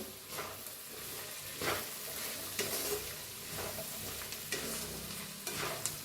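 Chaat mixture seasoned with turmeric, red chilli powder, chaat masala and salt is stirred in a sizzling pan, with steady frying hiss and repeated spoon scrapes at an even rhythm, close and clear.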